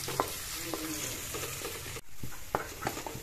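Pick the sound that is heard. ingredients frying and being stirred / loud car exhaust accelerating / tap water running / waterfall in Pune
ingredients frying and being stirred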